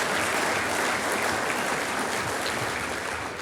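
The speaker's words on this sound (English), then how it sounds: "one more round of applause for Guy." An audience at a corporate leadership talk claps in sustained, dense applause that stays loud and even throughout, with no voices over it.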